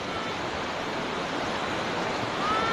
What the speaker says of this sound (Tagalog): Sobrang taas ng alon.